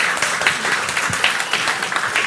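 An audience claps and applauds continuously at a church streaming service, a dense, moderately loud patter of many hands with no talking over it.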